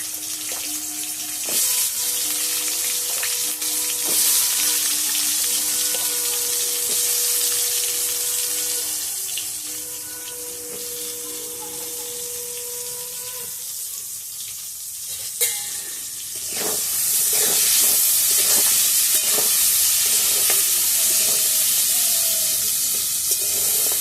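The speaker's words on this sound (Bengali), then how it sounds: "আলুগুলো দিয়ে দিচ্ছি তেলের মধ্যে" Potatoes fry in hot oil as a sustained crackling sizzle, with running water and clinks of utensils heard partway through.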